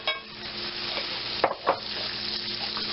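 Minced garlic frying in buttery substitute while being stirred around a pan, a close, steady sizzle with a couple of sharper scrapes of the utensil partway through.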